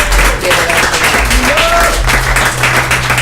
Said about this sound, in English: Please, let's hear a round of applause for all the great pieces of performance